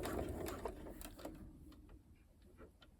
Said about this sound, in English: line your foot up because we're using a 6mm seam allowance, and then start to sew